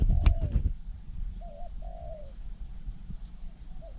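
Zebra dove cooing, a few short soft coos spaced over several seconds, heard alone at moderate distance after a brief burst of louder sound at the start.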